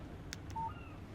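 Short phone text message alert in the Alan Wake video game, a quick double blip followed by a brief clean electronic tone, faint over a soft ambient backdrop.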